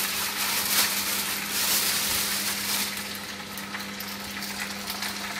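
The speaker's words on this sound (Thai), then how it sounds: "เอาไปผัด" Noodles being stir-fried in a pan for Thai rad na with spinach and fish balls, a steady broadband sizzle and scraping with a low hum underneath, loud and close throughout, no talking.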